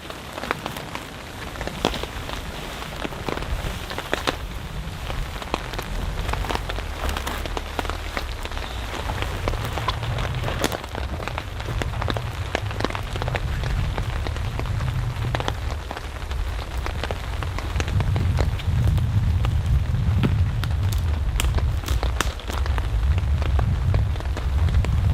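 Rain patters steadily on a tarp over a campsite, a dense, constant drumming with scattered louder drops and a low rumble underneath, continuing without any talk.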